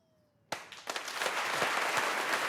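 Applause for an executive in a film scene breaks out abruptly after near silence, a few sharp claps quickly swelling into a dense, steady crowd ovation.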